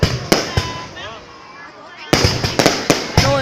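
Fireworks at a 2019 anniversary celebration in Sơn Hòa, seen from a hillside park: a series of sharp booming bursts, one early pair then a rapid cluster of loud cracks, with crackling in between.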